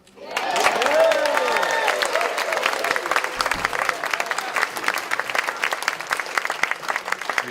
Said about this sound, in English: I would say a warm round of applause for our conductor.